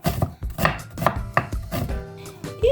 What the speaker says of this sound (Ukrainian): І я отак на полукольця подрібню цибулю